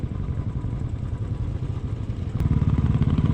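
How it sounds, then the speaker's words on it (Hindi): A 125cc motorcycle travels a Ladakh road with a low, rumbling engine drone that grows louder and closer in the final second as it approaches, with no speech. "ये देख लो जी, एक और अपने राइडर भाई चले हुए हैं 125 सीसी की बाइक पर"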